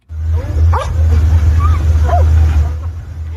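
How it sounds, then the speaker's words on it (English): Rescue dogs bark and yelp near a mud-caked pile of rock and debris at a flood site, with a few short distant barks over a steady low rumble and background noise. "rescue dogs searching a mud-caked pile of rock and debris"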